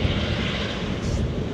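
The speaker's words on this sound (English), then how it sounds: "new inaugural flight from a British Airways A321" A British Airways A321 airliner passes close overhead with a loud, steady, broadband engine roar that holds at full strength throughout, with no voices.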